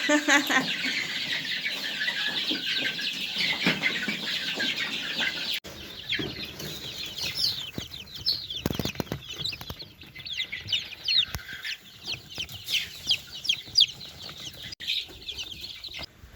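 Chickens and chicks cluck and peep steadily throughout, a busy coop chorus with occasional wing flaps and faint talk in the background.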